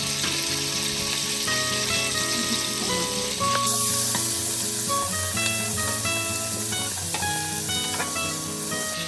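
Yardlong beans and golden-fried potatoes sizzle steadily in hot oil in a home kitchen pan, a loud continuous frying hiss with occasional stirring scrapes throughout.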